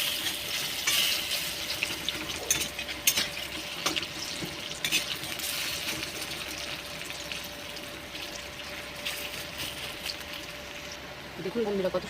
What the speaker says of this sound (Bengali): দেখুন বন্ধুরা, কত সুন্দরভাবে ভাজা হচ্ছে।